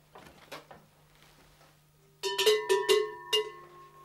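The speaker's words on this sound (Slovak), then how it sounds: "Pozerám, že tu máte aj zvonce." Bronze shepherd's livestock bells ring close up in a quiet room, a few soft knocks first, then a burst of bright, clanging strikes that ring on and fade.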